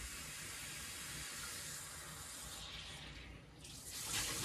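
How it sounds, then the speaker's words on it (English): Tap water runs steadily into a sink while raw almonds are rinsed, a continuous close hiss of flowing water that swells slightly louder near the end, with no talking. "Now remember to rinse your almonds"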